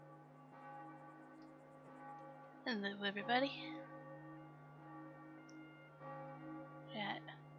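Steady, sustained bell tones from Farming Simulator 22 at in-game noon ring in the background throughout, while a person speaks briefly over them.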